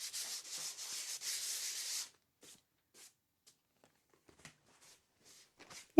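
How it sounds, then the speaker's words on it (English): Sandpaper rubs over a gesso-coated art piece in a run of quick, raspy strokes close by, then gives way to a few faint scattered scrapes and taps. "Maybe I will sand it down a little."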